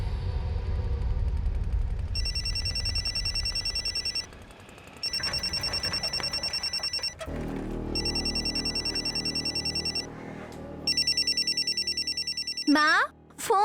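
A mobile phone rings in repeated bursts, loud and close, with background sound and voices between the rings.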